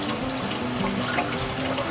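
Water runs continuously from a kitchen tap in Trinidad, a close, steady splashing stream with no pauses.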